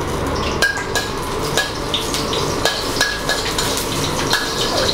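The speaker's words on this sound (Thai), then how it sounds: "ผัดให้กระเทียมหอมนะครับ" Crushed Chinese garlic stir-fried in oil in a pan, with a steady sizzle under frequent scraping and clinking of a utensil against the metal; no voices.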